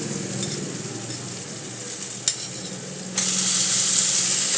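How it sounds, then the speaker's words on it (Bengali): Onion frying in oil for a fish-head moong dal sizzles steadily up close, with a brief clatter midway before the hiss swells louder and brighter. "রসুনটার পরে এবার আমি পেঁয়াজটা দিয়ে দিচ্ছি"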